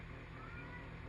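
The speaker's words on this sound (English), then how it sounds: "Oh, that cat." A cat meows on a rural property of about ten acres surrounded by woods, a fairly quiet call heard alone against steady low background noise.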